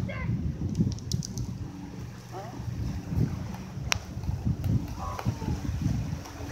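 Wind buffets the microphone at a rocky lakeshore beside the Marblehead Lighthouse, a steady rumbling gust under occasional talk and splashing water.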